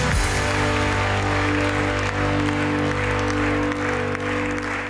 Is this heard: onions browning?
no